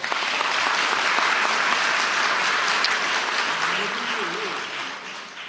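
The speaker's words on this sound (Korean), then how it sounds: "박수 부탁드립니다" An audience at a presidential press conference claps in sustained, loud applause that thins slightly toward the end, with a faint voice emerging underneath in the last seconds.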